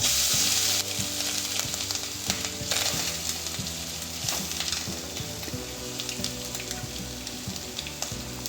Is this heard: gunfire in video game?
no